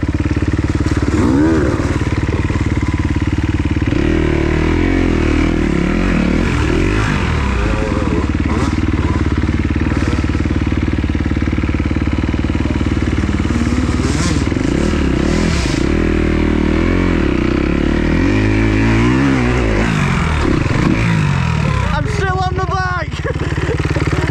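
An enduro motorcycle ridden through slippery woodland, its engine droning loud and close with rising and falling revs, clattering and scraping over rough ground, while a rider's voice cuts in at times.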